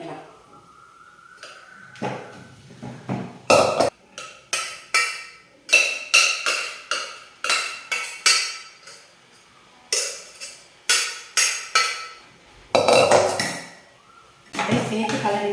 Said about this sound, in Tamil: அந்த வாழைப்பூவை இதிலே வந்து போட்டுட்டு கலரிக்கலாம்